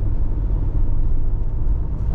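Low steady engine rumble of a 2021 Jeep Wrangler running, a dense continuous drone close by with no talking.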